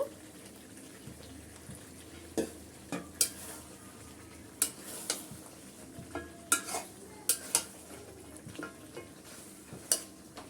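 Chicken pieces fry in a pan with spice masala while being stirred, giving a quiet sizzle broken by frequent short clinks and scrapes of a spoon against the pan.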